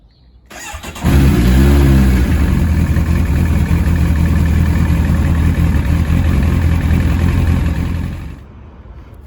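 A 1999 Kawasaki ZX9R sport bike cranks and fires up loud and close. It settles into a rough, steady idle with blips of revving for about seven seconds before cutting off abruptly.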